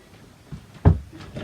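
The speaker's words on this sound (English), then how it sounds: "Yeah, shut the door" A door swung shut indoors at home, one solid thump near the middle, with faint movement and a soft knock after, close and fairly loud.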